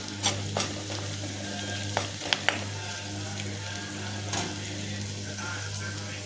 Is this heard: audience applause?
no